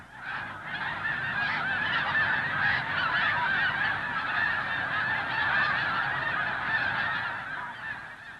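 A huge flock of up to 250,000 snow geese on Sand Lake in fall honks continuously, a dense, loud chorus of overlapping calls filling the whole stretch without pause.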